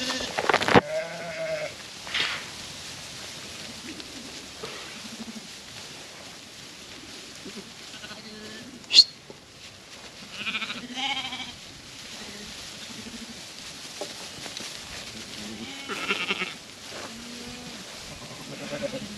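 Cheviot mule and Texel Cheviot mule ewes and lambs bleat repeatedly around a farm pen, overlapping calls near and far at irregular intervals, some loud and close, over a quiet background.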